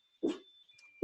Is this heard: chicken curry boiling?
no